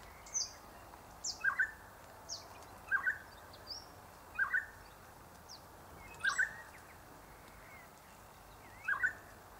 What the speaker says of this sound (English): I can hear the mistletoe bird, I can hear the rufous whistler